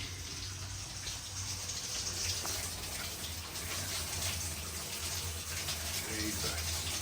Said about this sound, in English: So I'm going to run off some water